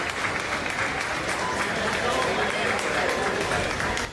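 Crowd applauding Ecuador's Armed Forces, a steady dense wash of clapping that holds loud for about four seconds, with voices mixed in.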